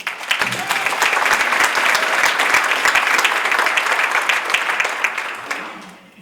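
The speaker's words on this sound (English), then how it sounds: "So now clap for Spencer." Audience at a Rotary Club speech contest meeting claps for a student contestant, a steady, dense round of applause from a room of people that holds for several seconds and then fades out.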